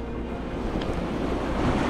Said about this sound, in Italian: C'è anche molto vento.